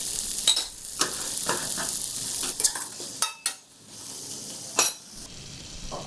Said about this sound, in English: Saute until tomatoes are well cooked.